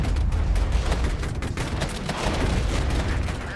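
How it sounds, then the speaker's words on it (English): Mortars fire in the war strategy game Regiments amid a dense, unbroken barrage of booms and rattling gunfire, loud and continuous without pause. "Mortars are firing away"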